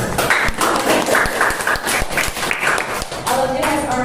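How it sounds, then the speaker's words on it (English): A debate class claps for its speakers at the close of a lesson, a dense, loud burst of many hands clapping close by that continues steadily throughout. "I would like to give applause for others."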